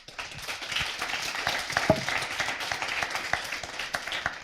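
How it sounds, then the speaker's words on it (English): Scattered applause from an audience for panelists at a panel discussion on IHR core capacity strengthening, a steady patter of claps at moderate level with no talking over it. "An applause for our panelists."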